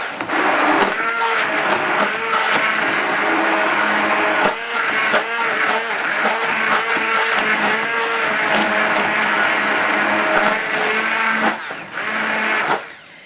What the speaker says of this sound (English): you can either use a hand blender